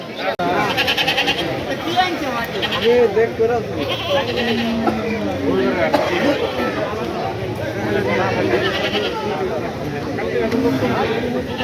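Goats bleat repeatedly at a busy livestock market in Rajbari, Bangladesh, their wavering cries rising over constant crowd chatter, with nearby people talking and haggling throughout.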